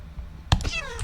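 Cat meowing in the Minecraft video game, two or three short close game meows with a quick click in between, loud and clear with no talk.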